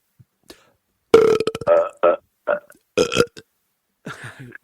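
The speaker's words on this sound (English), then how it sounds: "So maybe we could both belch together on the count of 3." Two people belch together on cue, a loud, low, croaky burst with several shorter gulping belches and a final ragged one trailing after brief pauses.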